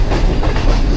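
Green Line Express train pulling out of a station in Pakistan, heard from on board as a loud, continuous rumble with steady clickety-clack of wheels on rails.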